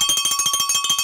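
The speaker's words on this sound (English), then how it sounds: "Let's get the bell going for the running dad" A bell clangs in quick repeated strokes to celebrate a marathon personal record set in 8-degree cold, a steady, loud, bright ringing that fills the whole moment with no talk.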